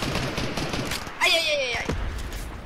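Video game gunfire rattles in rapid bursts, then a raised voice cuts through the shooting before more scattered shots follow.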